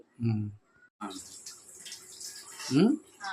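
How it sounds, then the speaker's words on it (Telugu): Coriander leaves are rinsed under running tap water in a home kitchen, a soft rushing splash heard between bursts of talking. "కొత్తిమీర రెడీ చేసుకుంటాం కడిగేసేసి"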